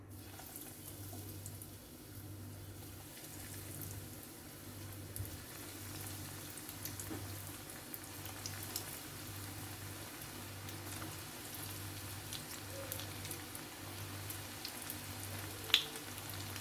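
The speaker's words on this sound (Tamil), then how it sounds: "இதை நம்ம இப்போ ஆயிலில் ஒன்று ஒன்றா சேர்க்க போகிறோம்" Breaded baby corn fritters fry in hot oil over a medium flame, a quiet, constant bubbling hiss with a faint pulsing hum underneath and an occasional small pop.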